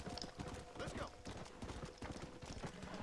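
Horse hooves galloping during a ride in the Red Dead Redemption Undead Nightmare video game, a steady rapid clip-clop running throughout beneath game noise and some voice.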